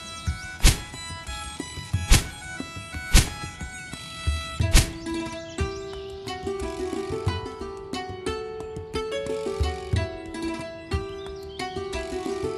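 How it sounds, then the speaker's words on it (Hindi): Sharp, woody thunks of an axe striking a tree, about one per second at first, then repeated over a background of music. "मेरे हिसाब से यही पेड़ ठीक रहेगा, चलो इसे ही काट लेता हूँ।"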